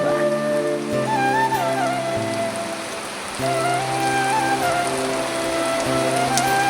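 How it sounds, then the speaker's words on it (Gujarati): Heavy rain pours down in a village, a steady, dense hiss of drops on surfaces that fills the whole scene, with music playing over it throughout. "પણ વરસાદ 2 દાડાનો જોરદાર પડી રહ્યો છે"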